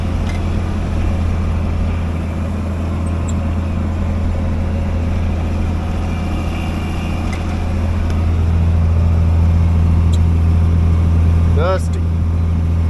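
A tractor engine drones steadily from inside the cab while it crosses a field planting beside a disking rig, a loud continuous low hum that rises slightly near the end, with voices talking over it.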